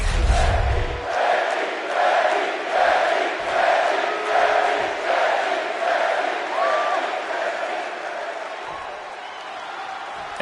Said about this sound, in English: This capacity crowd is ready to see Becky Lynch in action.